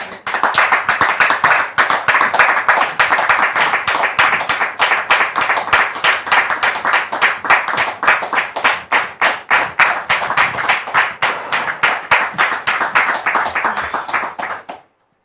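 An audience claps steadily at a French TV talk show, a dense loud run of individual hand claps sustained for about fifteen seconds before stopping abruptly.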